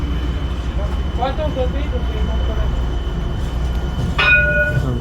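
An Alstom tram rolls past at Hauts du Chazal with a loud, steady rumble that lasts throughout. Voices murmur underneath, and a sharp ringing tone with clear harmonics cuts in near the end.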